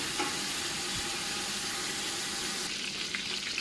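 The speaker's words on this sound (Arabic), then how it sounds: "راح أحمس بيه" Lamb meat sears in a hot pot with a steady, close, loud sizzle and hiss of frying that holds without pause.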